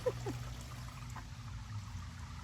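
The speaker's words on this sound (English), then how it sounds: "You gotta let all that water drain out of it." Water draining out of a lifted robotic pool cleaner, an AIPER Scuba S1 Pro, a faint, steady trickle and dribble of liquid pouring out close by, continuous and quiet throughout.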